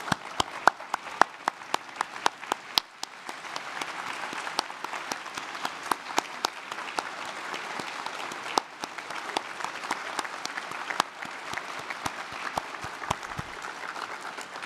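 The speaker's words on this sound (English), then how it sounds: "Let's give them one round of sustained applause." Sustained applause and clapping fill a large hall as an audience rises for a standing ovation at a scholars program ceremony, dense and steady for the whole stretch with sharp individual claps popping out of the wash.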